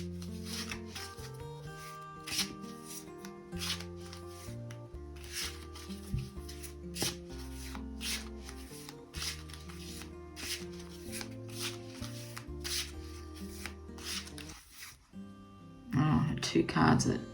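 A deck of cards is shuffled in a brief, close riffling burst near the end, following a stretch of background music with someone speaking.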